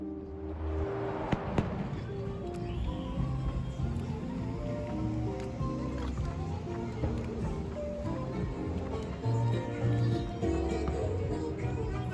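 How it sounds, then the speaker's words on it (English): A fireworks show at a Disney resort booms and crackles continuously for several seconds, with sharper pops near the start over a dense, steady rumble of bursts; some crowd voices mix in faintly. "fireworks are one of my favorite things"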